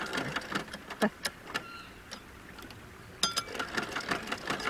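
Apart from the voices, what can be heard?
sewing machine stitching in reverse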